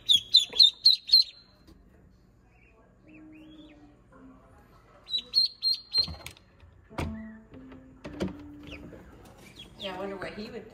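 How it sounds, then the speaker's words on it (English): Newly hatched Pekin ducklings give bursts of rapid high peeping near at hand, then a quiet stretch with faint peeps, while people talk softly in between. "Here he comes, the ugly duckling."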